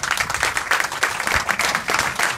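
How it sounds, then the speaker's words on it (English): Crowd applause at an outdoor press conference for a new mural in downtown Hutchinson: many hands clapping at a steady, moderately loud pace for a couple of seconds, with no talking over it. "if you give them a good round of applause"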